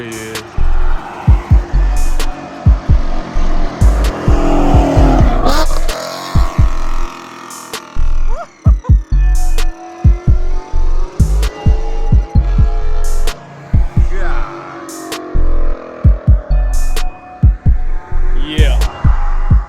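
Shelby GT350 fitted with a Corsa Extreme exhaust driving hard, a loud throbbing engine roar that rises and falls with sharp repeated bangs, heard from a distance and drawing closer, with people talking over it.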